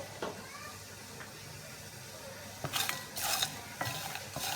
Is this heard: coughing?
no